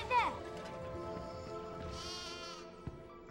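Sheep bleating in the Charlie and the Chocolate Factory video game, with a short bleat at the start and a longer wavering bleat midway over a soft game soundtrack.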